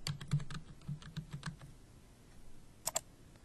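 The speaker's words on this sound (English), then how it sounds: "Next, type a keyword." Keys clatter on a computer keyboard in a quick burst of typing for about a second and a half, then pause before a final pair of keystrokes, close and clear in a quiet room.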